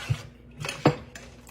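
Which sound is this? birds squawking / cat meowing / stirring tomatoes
stirring tomatoes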